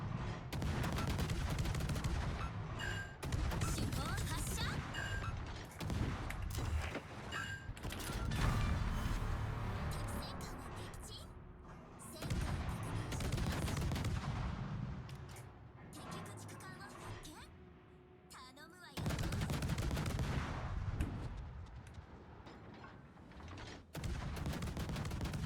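Naval guns fire during a World of Warships battle, with dense rumbling salvos and mechanical clanks in heavy, sustained bursts separated by brief lulls, loud and booming throughout.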